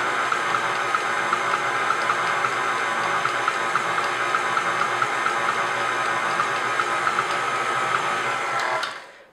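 A stand mixer with a paddle attachment churns butter at medium-low speed, a steady whirring motor drone with a faint rhythmic tick that runs evenly, then winds down and stops at the end.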